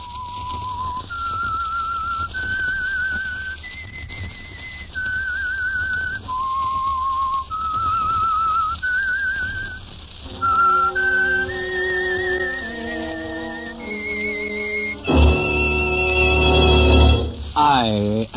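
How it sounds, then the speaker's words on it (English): A lone whistler plays a slow, stepwise melody of clear sustained notes, ending in a brighter flourish with a low rumble beneath. "That whistle is your signal for the Signal Oil program"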